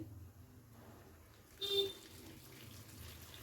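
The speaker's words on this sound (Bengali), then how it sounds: "তো এবারে এর মধ্যে আমি দিয়ে দেবো গরম জল।" Hot water is poured onto soaked soybeans in a bowl, a short splashing pour rising midway through over a quiet kitchen background.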